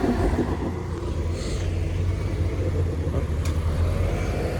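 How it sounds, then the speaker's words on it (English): A city bus passes on a downtown road in Homewood, Alabama, giving a steady, close, low engine rumble amid street traffic, with no voices. "We'll wait for this bus to get out of the way before we try to cross the road."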